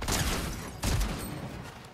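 Two loud bursts of Fortnite gunfire land close together, each followed by a rumbling echo that fades out. No one talks over them.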